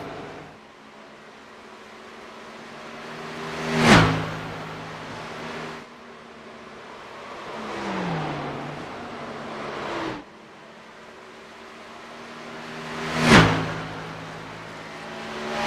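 Race cars in a racing video game lapping Indianapolis Motor Speedway, engines whooshing past in sharp Doppler sweeps about every four to ten seconds, with a steady engine drone between passes.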